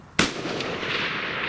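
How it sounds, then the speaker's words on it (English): A single sharp rifle shot from an AR-15 with a Windham Weaponry barrel, fired at steel targets at long range outdoors. It gives one loud crack and then a steady, noisy outdoor wash. "I'll throw up some footage to spot shooting with this gun."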